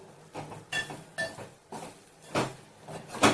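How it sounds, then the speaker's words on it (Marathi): Spices being stirred in oil in a pan for shevga (drumstick) bhaji with peanut and niger seed powder, heard as repeated metal scrapes and clinks of a spoon against the pan at a steady rhythm, close and moderately loud, no talking. "आता हे मसाले हलवून घेऊ"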